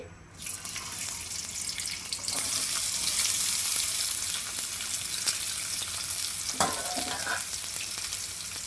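Steady hissing sizzle of finely chopped onions hitting hot oil for an Andhra-style okra tempering, loud and continuous, with a few scraping stirs partway through.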